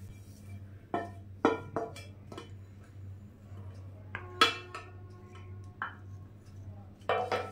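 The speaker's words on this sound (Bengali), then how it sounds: "আমি এবারে পুরটাকে একটা বাটিতে সুন্দর করে ঢেলে নিচ্ছি" Cooked chana dal filling is transferred from a pan into a bowl: scattered sharp clinks and knocks of a utensil against metal cookware, spaced a second or so apart, over a steady low kitchen hum.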